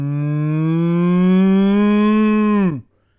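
A person imitates a cow with a single long, drawn-out vocal moo, loud and close, holding a steady low tone for nearly three seconds before cutting off abruptly into silence.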